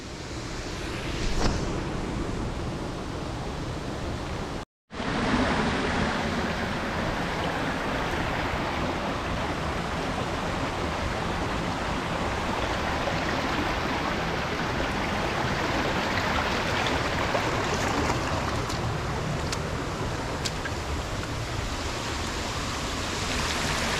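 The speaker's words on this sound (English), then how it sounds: "And that's a waterfall just down there, pretty big drop off." A big waterfall drops into a canyon below, giving a continuous, dense rushing roar that holds steady for the whole stretch, broken only by one instant cut-out near the start.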